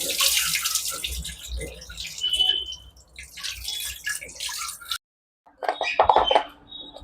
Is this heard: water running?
yes